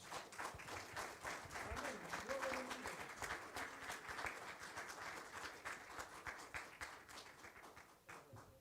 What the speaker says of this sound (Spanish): te damos un fuerte aplauso en el nombre de Jesús